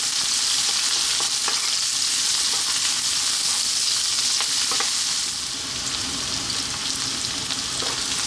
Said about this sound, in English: Then we're going to add our fresh ginger. We're going to stir this on a high heat just for 2 minutes.